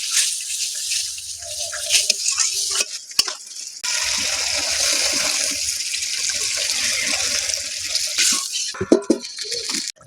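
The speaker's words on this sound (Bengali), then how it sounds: "দিয়ে দেবো এই মশলা বাটি ধোয়া জল একটু দিয়ে দেবো" Water from rinsing a spice bowl splashes into a pan of frying potatoes and spices while cooking fish curry, a bubbling, sizzling wash of sound with brief pauses and a few clatters.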